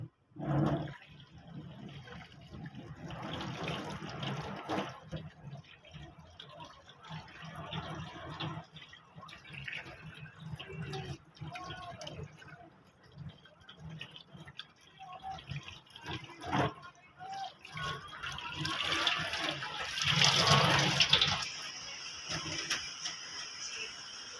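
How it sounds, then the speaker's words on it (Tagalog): Hands are wetted under a running tap while being washed, giving a steady, fairly soft splash of water with scattered drips and changing flow. No one speaks. "At babasahin na po natin ang ating kamay."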